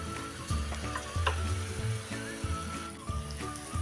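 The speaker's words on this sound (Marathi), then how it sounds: "बघा फोडणी कशी छान तयार झालेली आहे" Phodni tempering for curd rice sizzles in hot oil, a steady close crackle with repeated low thuds and scrapes of stirring in the pan, no talk.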